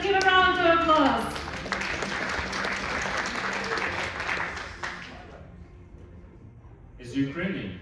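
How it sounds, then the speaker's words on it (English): Audience applause for a competitor at a Ukrainian tech pitch competition during an AI in Defence summit in Brussels. A sustained round of clapping follows a brief spoken introduction, fades out, and a voice begins speaking at the end. "Let's give a round of applause."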